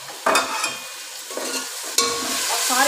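Spices being fried and stirred in a pan for chicken pulao with black pepper, a steady close sizzle with scraping stir strokes, louder bursts near the start and again at the two-second mark.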